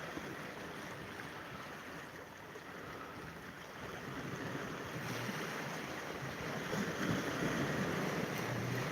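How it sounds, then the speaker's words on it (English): Waves on Lake Huron wash and break on the shore in a continuous rushing roar, swelling louder toward the end, with wind buffeting the microphone. "Love the sound of this water crashing."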